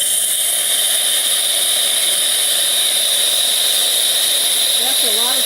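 Steam wand on a Morphy Richards Europa espresso machine hissing loudly and continuously while frothing milk, with a steady high whine throughout and a faint voice near the end.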